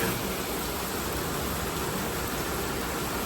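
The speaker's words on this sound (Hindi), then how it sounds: "तेज़ बारिश हो रही" Heavy rain pours steadily in Malaysia, a dense, unbroken hiss that stays loud and even from start to finish with no voices.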